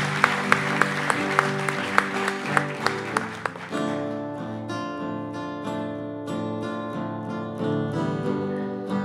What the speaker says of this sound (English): Big round of applause, though, please.